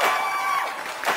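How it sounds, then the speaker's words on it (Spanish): Wedding guests at a party cheering and whooping for the newlyweds, a short burst of excited crowd shouts with a rising yell at the end. "¿Dónde está el aplauso para los novios?"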